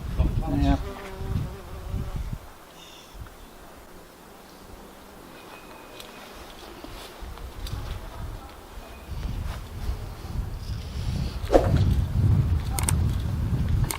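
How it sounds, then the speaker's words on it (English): Bees buzz steadily around outdoors over soft background noise, with a few brief louder bumps and rustles near the end. "Look at the bees."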